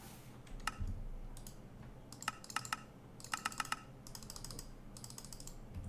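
Quick, close clicks from a computer mouse and keys come in uneven bursts, sometimes rapid clusters, as buttons are pressed in a modded Minecraft menu; no one speaks.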